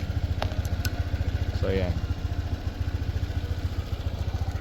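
A Honda ADV150 motorcycle engine idles steadily nearby with a rapid, even low pulse, while someone talks over it and a few small clicks come from the handlebar switches.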